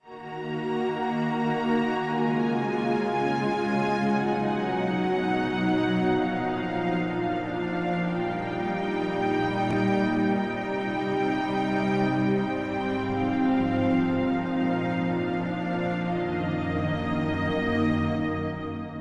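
Dense sustained chords in Drop 2 and 4 voicings, produced in Studio One software, ring out steadily and continuously for the whole stretch, thick and full with no speech.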